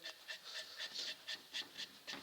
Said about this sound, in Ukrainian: Це собака. Собака розміром з козла.